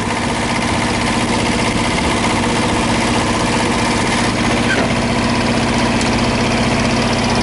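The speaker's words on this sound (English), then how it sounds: "It's a pretty small engine." A small truck engine idles steadily at close range, a constant low droning hum with a faint vibrating rumble and no break in level throughout.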